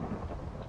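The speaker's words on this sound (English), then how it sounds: "I wonder if I am actually going to get hit by lightning." Deep rolling thunder rumbling loudly throughout a rainy storm in a video game, a continuous low boom with rain hiss over it and no talk.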